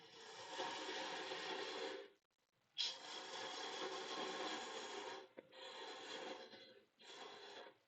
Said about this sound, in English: So I have room to get in there with my spindle gouge, or in this case a detail gouge